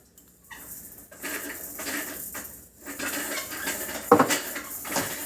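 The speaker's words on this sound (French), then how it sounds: "Et racler les parois du bol." A spatula scrapes around the sides of a mixing bowl while cheesecake batter is being made, giving soft rasping strokes that build after a brief quiet start, with one sharper clack near the end.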